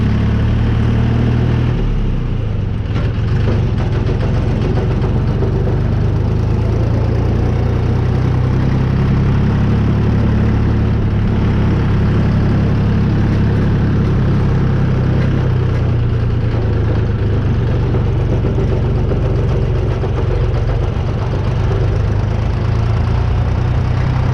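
A DTZ 5244 tractor with a homemade spring harrow runs at about 1400 rpm, giving a loud, close, steady diesel drone that holds without a break.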